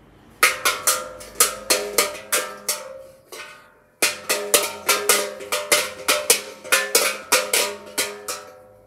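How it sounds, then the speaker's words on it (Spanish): A large bell, one of a set of Christmas gift bells, is struck over and over in a quick, steady rhythm. A brief pause falls midway, and then the close, loud ringing picks up again. No voices are heard. "Y este es el sonido de la campana grande."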